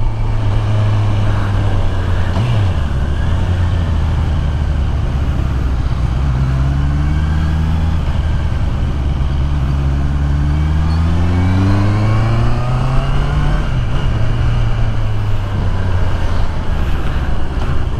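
Sport motorcycle engine, a 2023 Honda CBR650R or 2022 Kawasaki Z900 with an aftermarket exhaust, holding a low steady drone that swells through several rising and falling revs, loud and close with no talk over it.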